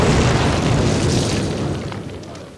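A loud, close explosion in a Call of Duty campaign level booms out at once, then its deep rumble and debris wash fade gradually with no speech.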